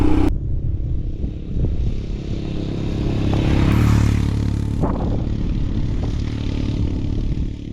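A Royal Enfield Himalayan motorcycle rides on through the desert with a loud, steady engine drone and heavy wind rush, rising slightly mid-ride, with a rider's-eye closeness and no talk.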